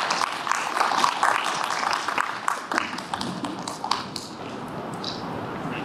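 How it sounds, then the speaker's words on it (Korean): Audience applause at a civic climate-action launch ceremony, a dense, steady clapping from a crowd that swells briefly and then slowly tapers while continuing. "무대 위로 올라오실 때 박수 한번 부탁드리겠습니다."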